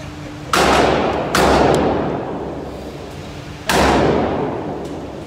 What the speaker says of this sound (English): We're going to shoot this now.